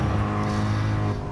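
A Toyota GR86 engine revs hard on a race track, a loud, steady harmonic drone heard from inside the car that holds high and then eases slightly at the end.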